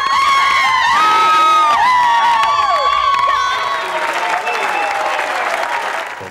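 A large crowd of political supporters at an outdoor rally cheers, whoops and applauds loudly, with shrill shouts and whistles rising over continuous dense clapping that eases slightly toward the end.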